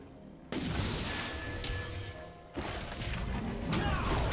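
A turret being destroyed in League of Legends, a sudden loud crash-like burst followed by a second heavy impact, both dense and rumbling and sustained within busy game noise.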